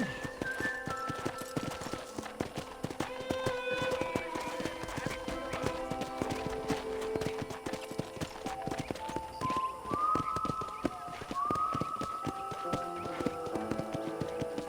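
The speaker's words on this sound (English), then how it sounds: "let's see if you can still ride a horse." Horse hooves clip-clop in a steady, brisk rhythm while riding in the Red Dead Redemption video game, close and continuous, with tonal game music running underneath.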